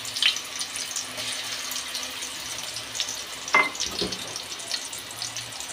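Oil frying with ginger and garlic in a pan, a steady broadband sizzle with brief clatters of stirring, no talk.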